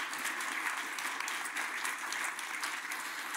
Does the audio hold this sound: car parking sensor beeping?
no